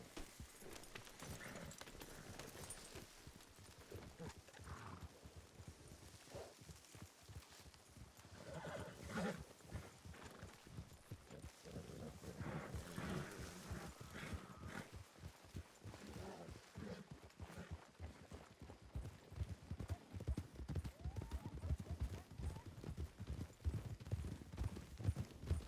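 Horse hooves clip-clop steadily on a ranch trail in a Western roleplay game, with repeated neighs and whinnies rising over the hoofbeats, close and fairly loud throughout without talk.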